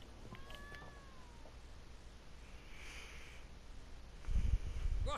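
A cat in the video game The Witcher 3 gives a brief, faint meow amid quiet game ambience, followed by a low rumbling thud near the end.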